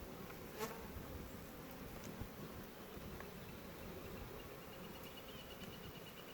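Honey bees from a laying-worker colony buzz around a hive frame in a steady, dense drone, close by and continuous, with no voices.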